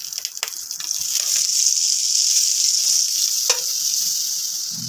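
Paneer bread pizza toasting in melted butter in a pan, a loud, close, steady sizzling hiss with a few brief clicks near the start.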